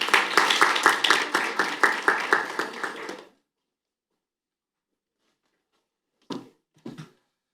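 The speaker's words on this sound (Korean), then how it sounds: "큰 박수 부탁드립니다." An audience at a public hearing on enacting an accounting framework law claps for about three seconds, a moderate patter of many hands. It stops abruptly, followed by silence and two brief thumps.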